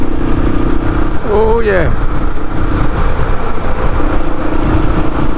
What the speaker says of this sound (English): The old bike's rattling a bit.